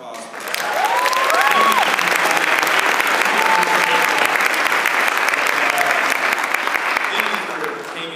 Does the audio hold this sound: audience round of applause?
yes